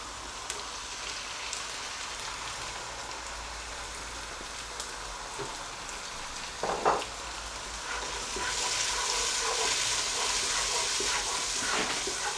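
Tomatoes sizzle in a hot frying tarka for daal mash: a steady, close oil crackle with a brief stir or clatter midway, then a louder, denser sizzle swelling up for the rest of the clip.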